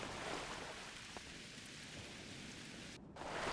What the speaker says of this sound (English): Wow, rain on Risa.